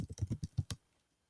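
Keys on a computer keyboard are tapped in a quick burst of about seven close, crisp clicks, then the typing stops and quiet follows.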